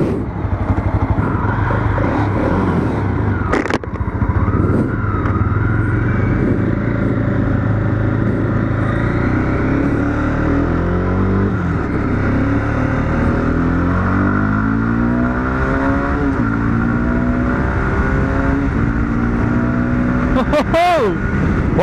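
A modified Mahindra Mojo 300 XT motorcycle with dual exhaust and a racing air filter revs hard through repeated gear shifts at speed, engine pitch climbing and dropping over heavy wind roar, loud and close.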